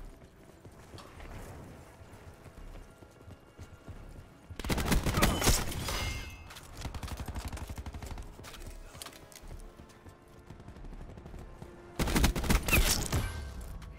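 Bursts of automatic gunfire from a weapon in Call of Duty: Black Ops 4, two loud sustained volleys with rattling mechanical clatter between them over quieter game ambience.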